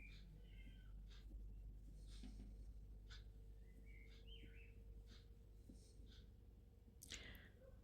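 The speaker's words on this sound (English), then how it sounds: "It's dark out already, and birds are still happy singing." Birds singing outdoors after dark, heard faintly and at a distance as scattered short chirps and whistled phrases over a low, steady background hum.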